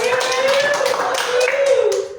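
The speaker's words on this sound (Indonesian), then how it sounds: "Beri tepuk tangan buat Mas." Clapping from a classroom audience during a microteaching session, a brief burst of quick claps over a steady sustained tone, fairly close and loud, ending abruptly after about two seconds.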